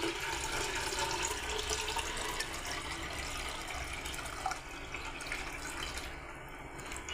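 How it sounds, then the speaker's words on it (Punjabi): Water is poured steadily into a new clay pot, a continuous soft splashing and trickling fill that runs for several seconds at low level without voices. "ਆਪਾਂ ਹੁਣ ਇਹ ਚ ਪਹਿਲਾਂ ਪਾਣੀ ਭਰਨ ਲੱਗੇ ਆ ਕੁੱਜੇ ਚ ਕੁੱਜਾ ਪੂਰਾ ਮੂੰਹ ਤੱਕ ਭਰ ਦੇਣਾ"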